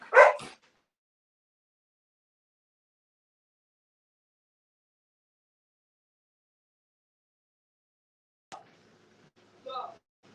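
A single sharp dog bark opens, followed by a long silence, then a couple of fainter, scattered barks and yips near the end.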